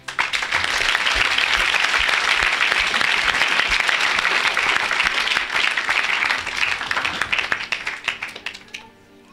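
A congregation at a worship service applauds together in praise of the Lord, a dense, sustained burst of many hands clapping that holds steady for most of its length, then thins out and fades near the end.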